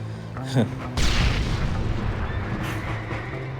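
Heavy booming bomb blasts from a video game, one muffled thud followed by a louder rumbling explosion that rolls on, with another burst later.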